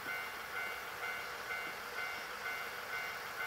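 Steady train noise at a station, a broad even hiss and hum with a faint high whine, continuous and fairly quiet with no talk.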